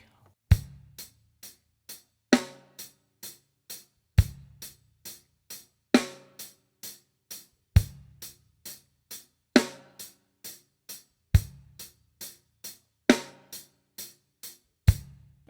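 A beginner drum-kit groove adds low bass-drum thumps on beats 1 and 3 under steady hi-hat ticks and snare cracks on 2 and 4, repeating evenly, close and without speech.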